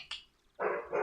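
A pet dog gives a short, close bark, followed by a slightly longer second bark indoors, brief and fairly faint, with no talking.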